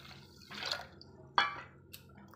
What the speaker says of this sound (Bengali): এখন আমি এক বাটির মধ্যে জল দিয়ে দেবো